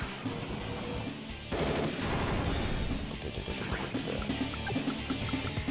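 Rapid gunfire from a tank attacking a pipe runner in Advance Wars Dual Strike, a dense, continuous rattle of shots and impacts, loud and steady for several seconds.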